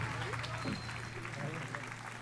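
Festival audience applauding at the Ciudad Alta fiestas proclamation in Las Palmas de Gran Canaria, a steady wash of clapping heard throughout over a low hum, with voices mixed in.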